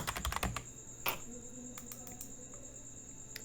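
Typing on a computer keyboard while filling in an online recruitment form, a quick burst of close, crisp key clicks at the start, then sparse isolated taps over a steady faint hiss.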